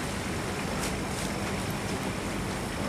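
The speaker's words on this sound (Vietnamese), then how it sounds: "chiếc ghe dây cũng đang ở phía sau tăng tốc theo sau các bạn" A fishing boat heads out to sea off Binh Thuan, Vietnam, with a loud, steady broadband roar of engine, wind and water that stays even and close throughout.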